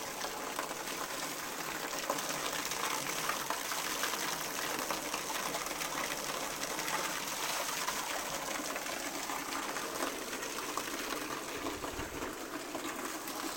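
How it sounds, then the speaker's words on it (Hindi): Flowing water near Bani temple in Jammu makes a steady, unbroken rushing hiss that stays even throughout, with no voices over it. "बिल्कुल शांत है ना, सिर्फ पानी की आवाज़ आ रही है।"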